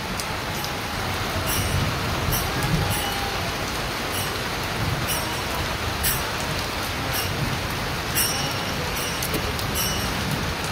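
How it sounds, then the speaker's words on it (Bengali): Heavy rain falls during a thunderstorm at night near a temple, a dense steady hiss of downpour on surfaces with faint intermittent crackles, continuous and without talk. "অনেক বৃষ্টি নামছে"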